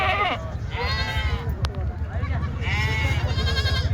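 Several goats bleat at a busy rural goat market in Vasmat, Maharashtra, with repeated wavering cries up close, one before and others later, over a steady murmur of crowd noise and voices.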